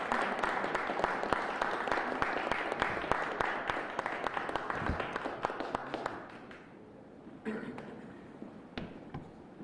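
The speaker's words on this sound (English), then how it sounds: "Let's give him a big, warm round of applause." An audience at a city hall event marking Black American Heritage Month applauds a keynote speaker, with dense, steady clapping from a crowd that fades as a few last claps trail off.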